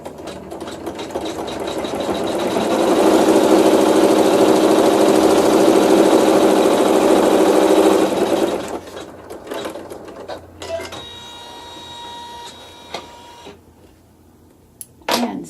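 Sewing machine stitching a seam through fabric with neutral thread, a close, loud, steady whirring run of about eight seconds, followed by quieter handling and clicks.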